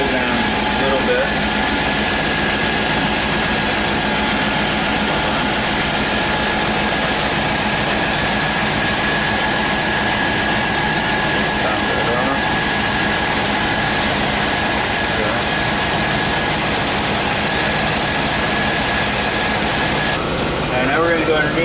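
A 1999 GMC Suburban engine runs at idle with a steady broadband drone and a thin high whine throughout, close and constant, after a radiator replacement.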